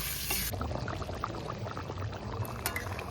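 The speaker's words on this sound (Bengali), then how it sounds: "জল দিয়ে দিলাম।" Water poured into a simmering pot of spicy red Kashmiri aloo dum, a soft continuous splashing and bubbling, close but fairly quiet and steady, with no talking.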